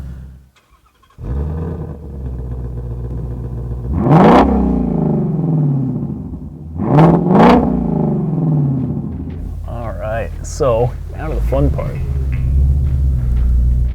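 A 2017 Ford Mustang GT350 V8 engine and exhaust roar close by, with two sharp revving surges and then crackling, popping throttle blips as it accelerates, someone speaking briefly at the start.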